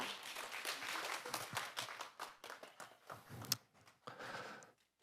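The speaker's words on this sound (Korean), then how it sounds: "큰 박수 부탁드립니다" Audience applause following a choir performance at a monthly healing-and-hope forum concert, a dense wash of clapping that rises and falls over about five seconds, with a few sharper claps standing out.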